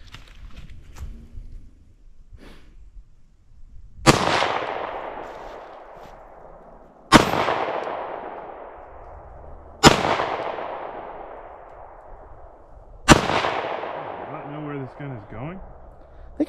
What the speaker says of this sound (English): I think you're shooting high.